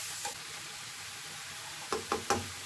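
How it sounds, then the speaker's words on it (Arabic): Eggs and squeezed vegetables are stirred in a frying pan, a quiet steady sizzle with a few utensil knocks against the pan near the end. "صافي غادي نحرك حتى يتخلطوا ليا ونساجمو، وغادي نخليهم حتى يطيبوا مزيان"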